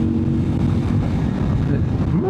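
A CFMOTO 800cc motorcycle engine at about 5,000 revs drones steadily under heavy wind rush as the throttle rolls on, with a rising pitch at the very end.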